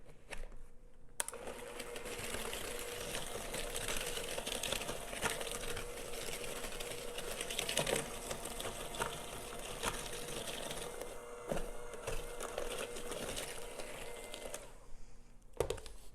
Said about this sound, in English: I'm going to mix this together. Just using this hand mixer again.